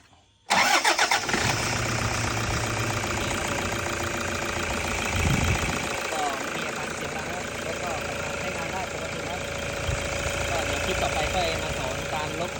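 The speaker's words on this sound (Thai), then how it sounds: "หลังจากประกอบเสร็จก็มาสตาร์ทดูนะครับ อ่ะ สตาร์ทครับ" A Toyota Vigo pickup engine, just fitted with a new timing belt, cranks and catches abruptly, then settles into a loud, steady idle close by, with a voice briefly heard.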